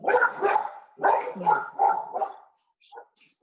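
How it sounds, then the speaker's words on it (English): A farm dog barks at the neighbor's cows during its morning run-around, giving several close, loud barks in two bursts followed by softer yips and whimpers. "dog's going crazy. This is morning run around, bark at the neighbor cows."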